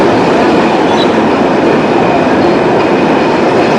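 A train running at about 120 km/h near a station, heard from on board as a loud, continuous rumbling roar of wheels and carriages with no breaks.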